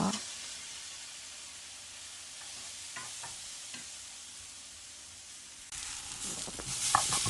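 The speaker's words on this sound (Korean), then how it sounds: "오뎅 맛있게 볶고 있습니다." Fish cake being stir-fried in a home kitchen pan, a steady faint sizzle with scattered scraping stir strokes, growing louder and busier in the final seconds.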